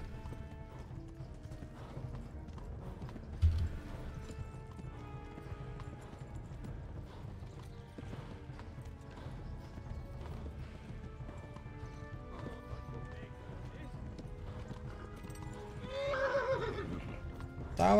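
Hooves clop steadily from a galloping horse in Kingdom Come: Deliverance, a continuous rhythmic pounding with game ambience underneath, ending in a loud neigh that rises near the close.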